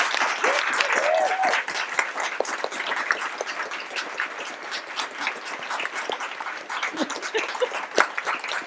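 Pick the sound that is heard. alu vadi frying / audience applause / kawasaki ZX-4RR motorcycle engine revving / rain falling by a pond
audience applause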